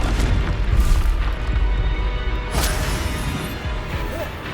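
A Confringo blast spell explodes in the game Hogwarts Legacy, a loud, rumbling boom with crashing debris that rolls on continuously and close, with a second sharper burst partway through.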